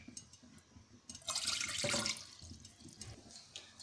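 Water pours into a cooking pan for kahwa, a short splashing gush rising in the middle and tapering off, heard close and fairly quiet against faint kitchen background.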